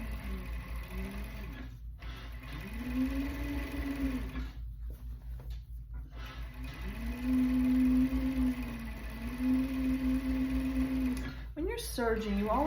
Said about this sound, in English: When you're serging, you always want to see a little bit fall off.